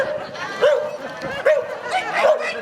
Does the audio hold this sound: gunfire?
no